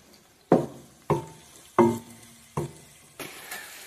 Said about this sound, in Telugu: అవి ఫ్రై అవుతున్నాయి.